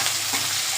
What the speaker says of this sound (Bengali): এটা নাড়া দিয়ে